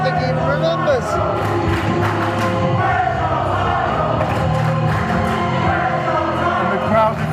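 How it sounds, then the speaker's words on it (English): A wrestling crowd at a Genesis Wednesday Night Ignite event chants in a loud, continuous rhythmic roar, with a voice talking over it throughout. "if you can't hear what the crowd are chanting, they're chanting Leonie Rose, where's your title?"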